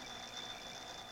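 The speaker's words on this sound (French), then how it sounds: "Arrête le cadran." An alarm clock rings as a continuous high electronic tone with a faint pulsing quality. It is quiet and steady and carries on alone for the whole moment.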